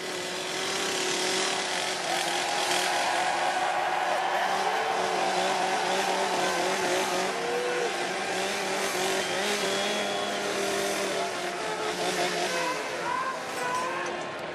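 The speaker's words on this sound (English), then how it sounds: "we can fire up the chainsaw, right?" A chainsaw drones loudly and steadily at a Portland Timbers soccer event, its engine pitch wavering slightly while it runs the whole time.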